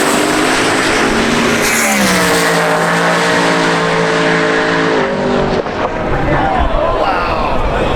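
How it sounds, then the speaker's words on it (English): A 2011 Ford Mustang drag racing at high speed, its engine howling loud and close with rising harmonic pitch sweeps as it pulls through gears, then a sharp cut-off and a quieter roar trailing away. "That is one fast Mustang."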